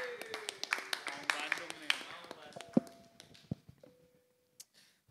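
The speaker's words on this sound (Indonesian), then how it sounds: "Kita kasih tepuk tangan untuk Sultan" An audience gives scattered, uneven applause for a pundit on a football talk show. It is moderate at first, then thins to a few isolated claps, mixed with talk and background noise.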